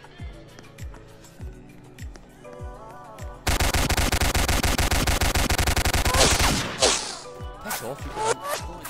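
Gunfire in the Apocalypse Rising video game: a few spaced single shots, then a loud, dense burst of rapid automatic fire lasting several seconds before tapering into scattered shots.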